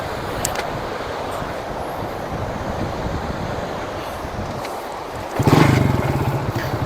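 A motorcycle ridden by a learner during training runs with a steady, rough engine rumble under outdoor wind noise, then surges louder as it is revved near the end.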